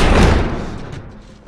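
A heavy door slams shut in The Last of Us video game, one loud close thud that decays quickly.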